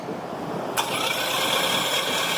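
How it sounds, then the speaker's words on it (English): A car starter whines as it spins the flywheel while the engine fails to turn over, a loud, steady mechanical whir that cuts in abruptly and holds without catching. "it sounds like the starter is spinning the flywheel, but the engine's not spinning"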